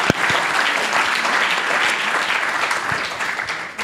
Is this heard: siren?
no